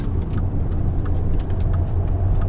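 A Maserati Ghibli S Q4 rolls through a U-turn, heard from inside as a steady low engine and road drone with faint ticking clicks scattered over it.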